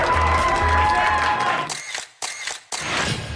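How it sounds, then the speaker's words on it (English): A boisterous crowd of onlookers in downtown Guelph cheers loudly and steadily, with camera shutter clicks mixed in, then the noise breaks off briefly before resuming as a family van is parked in front of them. "the challenge is parking this family van in downtown Guelph in front of our boisterous crowd of onlookers"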